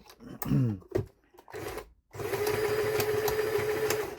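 A 40-year-old Jaguar sewing machine under repair follows a few brief voice sounds and clunks, then starts up in a steady, close mechanical whir with a sustained motor hum.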